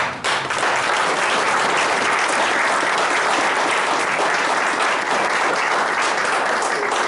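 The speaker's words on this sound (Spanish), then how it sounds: "les pido un fuerte aplauso" A church-hall audience breaks into sustained applause, dense and steady clapping that fills the room for several seconds with no voices over it.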